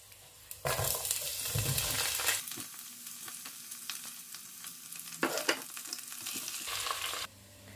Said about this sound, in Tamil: இப்போ வந்து நான் ஆனியன் ஆட் பண்ணிக்கிறேன்